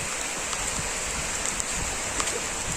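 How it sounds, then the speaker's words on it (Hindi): Rain beginning to fall in a village, heard as a steady close hiss of water with scattered tapping drops on surfaces and no talking. "पानी चालू हो गए हैं"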